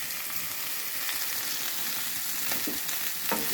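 Spinach fries in a pan with a dense, continuous hiss and crackle, close and steady throughout, with a couple of soft stirring scrapes and no talking.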